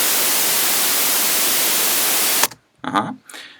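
Synthesized white noise note from a MIDI clip plays as a flat, loud hiss for over two seconds, then cuts off abruptly, followed by someone speaking.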